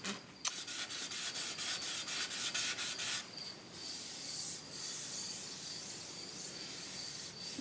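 Sandpaper rubbed against a guitar body, a run of quick, even rasping strokes for about three seconds, then a softer steady scrubbing that continues alone, near and moderately loud.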